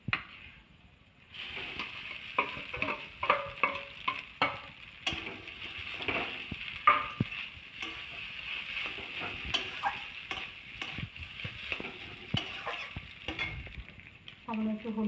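Egg and potato frying in a pan while being stirred, with a steady sizzle under frequent scraping, clattering strokes of a spoon against the pan throughout.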